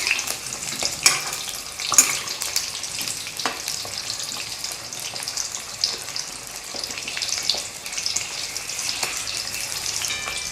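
Sliced onions sautéing on a full gas flame for Mehsana-style dungliyu, a close crackling sizzle with scattered pops and occasional stirring scrapes, continuous throughout.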